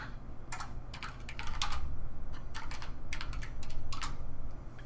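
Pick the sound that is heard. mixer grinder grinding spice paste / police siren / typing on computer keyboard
typing on computer keyboard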